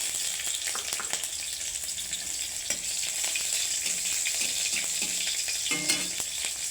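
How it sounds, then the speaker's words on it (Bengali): Cloves, cinnamon, cardamom and green chili fry in white oil with a loud, continuous hiss. A few clattering stirs break through the sizzle, close by and without speech. "সাদা তেল দিয়েছি এখানে দিয়ে দেবো লং দারচিনি এলাচ আর দিয়ে দেবো কাঁচা লঙ্কা"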